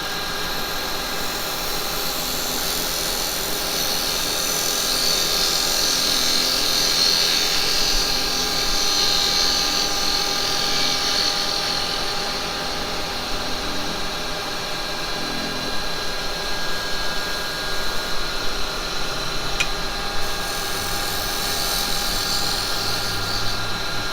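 A steady, high-pitched mechanical whine of a spinning wood lathe runs continuously, with a cutting tool scraping against the turning wood throughout, cutting across end grain.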